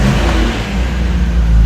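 A Nissan Skyline R34 Nismo Z Tune engine turns over and revs with a loud, steady low rumble, heard up close and alone.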